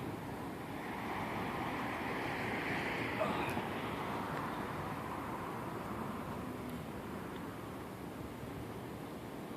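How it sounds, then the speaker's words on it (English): Outdoor wind at a model plane hand launch rushes as a steady, broad, hissing roar buffeting the microphone throughout, with no clear voices or engine. "I'm just waiting for the wind to die down a little bit."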